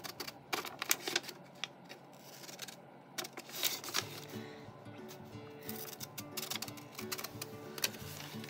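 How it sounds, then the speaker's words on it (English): Scissors cutting a diamond shape out of gold felt for an embroidered ornament, heard close up as a steady run of crisp snipping and rustling with no talk. "I am going to cut out the diamond."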